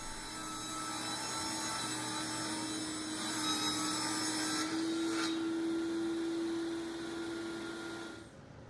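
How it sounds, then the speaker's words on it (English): A table saw rips 12-inch strips from a large MDF panel, giving a loud, steady whining drone that holds for about eight seconds before spinning down, with no talking. "I'm starting off by ripping 12-inch strips out of the giant MDF panel"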